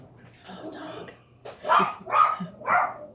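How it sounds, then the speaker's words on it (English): A dog barks three times in quick succession, fairly close and loud, after a stretch of quieter background sound in a home kitchen setting. "Oh, dog."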